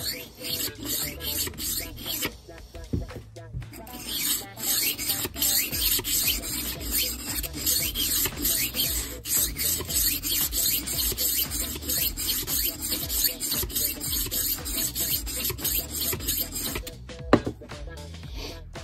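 A tumbler rolling knife sharpener worked back and forth against a blade to knock off the burr: continuous close rubbing and rasping strokes in an uneven rhythm, with a brief pause and a few sharper clicks.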